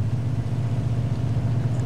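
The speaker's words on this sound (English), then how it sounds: "That's a nice looking car." Steady engine idle of a car in the video game Mafia 2, a continuous low hum that stays even and close throughout, with no voices.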